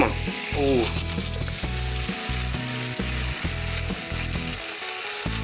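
Loud, continuous sizzling close up as cheese slices melt in bubbling melted butter in a pan for cheese ramen, a steady frying hiss with a low rhythmic pulsing underneath and no voices.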